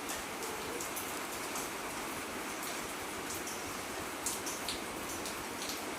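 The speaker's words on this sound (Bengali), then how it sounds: "বৃষ্টি পড়ছে" Rain falls steadily, a dense, even hiss of drops on surfaces, with faint patters now and then and no voices.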